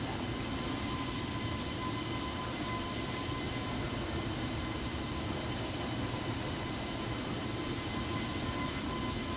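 Alaska Airlines Airbus A320neo engines at climb power in a flight simulator game: a steady, even engine roar with a faint whining tone, continuous and unchanging, heard from inside the aircraft with no talk.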